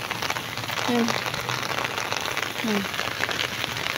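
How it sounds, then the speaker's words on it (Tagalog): Heavy typhoon rain pouring steadily as a dense, continuous hiss on surfaces, with a voice faintly underneath. "malakas naman ang ulan"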